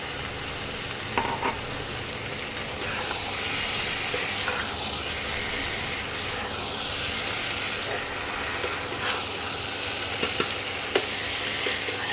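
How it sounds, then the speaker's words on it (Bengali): Potatoes tossed into Banarasi mutton frying in released oil, a steady, close sizzle with stirring scrapes and occasional sharp clicks of the spoon against the pan, running continuously without talk. "এবার আলুগুলো এই মাংসের মধ্যে দিয়ে দিলাম"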